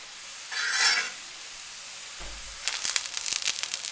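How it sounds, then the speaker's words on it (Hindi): Makki ki roti, a maize-flour flatbread, cooks on a griddle with ghee spread on top: a soft swell of hissing sizzle rises and fades, then a run of light scraping clicks and crackles follows close by, with no talking. "अब इसके ऊपर भी हम थोड़ा सा घी लगाएंगे दूसरी साइड इसकी पकाने के लिए।"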